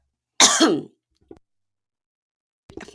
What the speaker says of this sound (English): I coughed and then muted it.